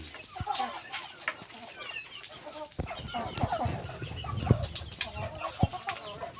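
Chickens cluck softly in irregular bursts, faint and scattered over a quiet farmyard background with occasional rustling.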